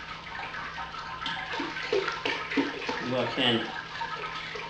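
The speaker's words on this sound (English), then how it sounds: "I'm just going to put as much of the sparge water in here as I can" Homebrew sparge water pours steadily through a mash in a constant splashing, rushing flow, with someone speaking briefly over it.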